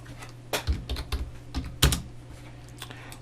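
A computer keyboard taps out shortcut combinations during 3D modelling in Blender: a few close, crisp keystrokes in quick clusters, then a pause, over a faint steady background hum.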